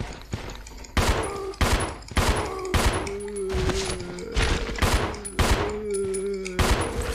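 A run of close, sharp gunshots in the video game Resident Evil Zero, fired one after another at uneven intervals over about seven seconds, each a loud crack with a short tail, under a low-pitched game ambience.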